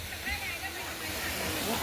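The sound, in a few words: small waterfall near Panvel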